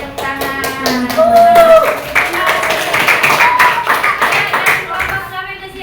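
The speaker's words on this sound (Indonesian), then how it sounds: "tepuk tangan" A classroom group claps in a brisk burst of individual hand claps, close and fairly loud, with students' voices talking over it.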